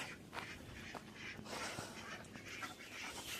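Ducks quack softly in a group, scattered short calls over a faint outdoor background, somewhat distant.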